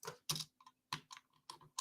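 Fingers type on a Bluetooth computer keyboard at close range, a series of crisp, uneven key clacks with short pauses between them, with no talk.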